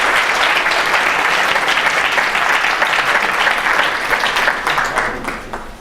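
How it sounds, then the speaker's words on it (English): An audience in a university astronomy tour lecture applauds a speaker: dense, loud, sustained clapping from many hands, holding steady and then tapering slightly at the end. "let's give a round of applause to Miranda"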